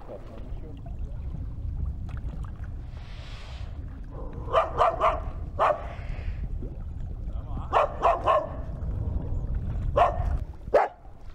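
A dog on a fishing trip on the Opala River in Kamchatka barks in short repeated bursts and yips against a low boat engine rumble, fairly close and moderately loud.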